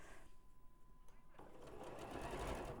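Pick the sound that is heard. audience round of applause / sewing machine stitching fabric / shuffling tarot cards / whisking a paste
sewing machine stitching fabric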